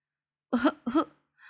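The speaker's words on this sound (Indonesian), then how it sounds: "Maria batuk karena asap rokok pria itu." Two quick coughs from a woman reacting to cigarette smoke, close together, fairly loud, followed by a faint brief sound.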